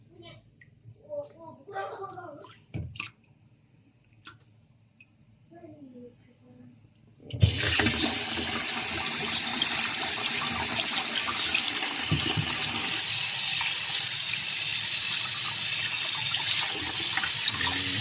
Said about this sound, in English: High pressure water to wash it.